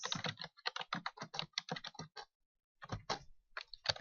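Someone types on a computer keyboard, producing rapid, close clicking keystrokes in two bursts separated by a short pause, in a quiet room with no talking.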